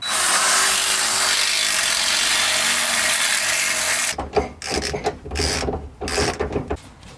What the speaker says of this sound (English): you can safely tighten the top bolt like Shane's doing right now